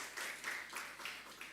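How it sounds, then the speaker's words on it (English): An audience at a London forum gathering applauds, a dense but faint patter of many hands clapping at once, heard from a distance and lasting the full short moment without voices over it. "Please give him a huge round of applause."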